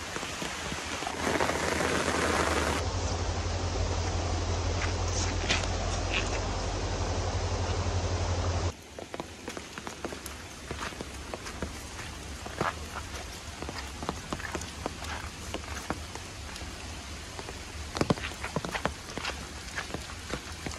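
Heavy rain pours by a river in South Goa, a dense steady hiss that shifts to a patter of distinct drops and splashes partway through, with no talk.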